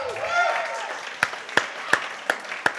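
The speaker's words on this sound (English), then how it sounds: "Can you give a round of applause to all the great talent so far?" Thinning applause at a student talent showcase, with a murmur and a whistle-like tone early on, then a few loud isolated claps spaced evenly apart.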